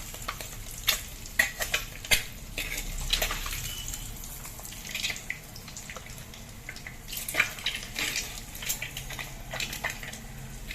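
Eggs fry with chili powder in an oiled pan for egg dum biryani, giving a steady close sizzle broken by sharp clicks of a utensil against the pan and a few louder spatters.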